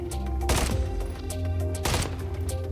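Gunfire from an MCW rifle in Call of Duty MW3 aimed at a soccer ball, two short bursts of shots about a second and a half apart over steady game background sound.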